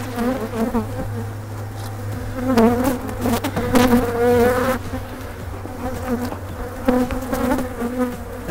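A full, solid honey bee colony in a nucleus hive buzzes close and loud, a dense, steady drone with swelling and fading individual bees passing near, over a constant low hum and with no speech.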